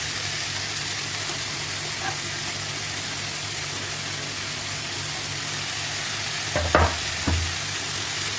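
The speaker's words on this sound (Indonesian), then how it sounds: "Lalu masak sambil diaduk-aduk." Wonton filling for Bangka-style chicken noodles cooks in a pan, giving a steady, even sizzle throughout, with a couple of brief utensil clinks and scrapes near the end.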